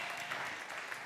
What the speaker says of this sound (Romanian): aplauze vă rog pentru Dan Marcu